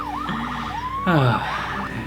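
A police car siren sounds up close, with a yelping wail sweeping up and down, then a sharp rising whoop burst before the wailing resumes, loud and clear with no talk.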